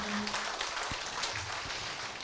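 Applause from a lecture audience at a Korean philosophy and humanities forum, a steady broadband wash of many hands clapping at moderate level throughout, with a faint voice briefly at the start.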